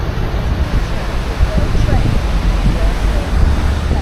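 A river in mid-Wales flows past a busy road crossing, its steady broadband rush mixed with gusting wind buffeting the microphone, loud and continuous without a break.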